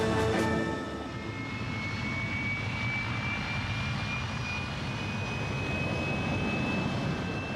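A General Dynamics F-111 jet aircraft roars steadily with a broad, sustained engine rumble and rising whine, loud and continuous throughout.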